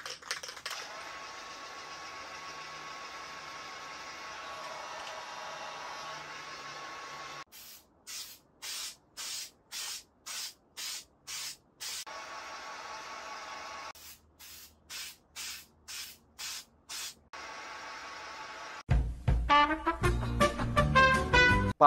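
Plasti Dip rubber coating is sprayed from an aerosol can onto a Tesla in long steady hisses, then in a series of short rhythmic bursts, followed by louder clattering handling noise at the end.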